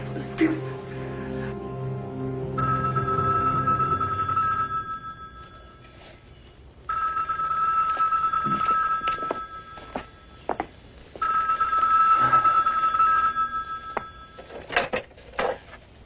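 A telephone rings in three long repeated bursts separated by short gaps, fairly clear and close, with light clattering and faint background sounds in between.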